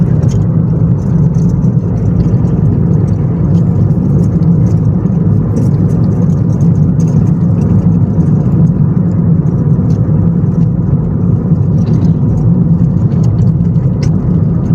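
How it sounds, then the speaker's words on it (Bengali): A car cruises steadily at about 80 km/h on a road between Narsingdi and Gazipur, giving a constant loud engine and road rumble with a whirring hum that never lets up and no voices over it. "গাড়ি এখন 80 স্পিডে আছে"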